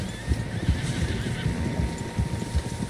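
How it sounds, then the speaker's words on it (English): Several horses neigh and whinny in Red Dead Redemption 2, with clip-clopping hooves in a steady rhythm, loud and close, no talk over them. "Horses, quite a few of them."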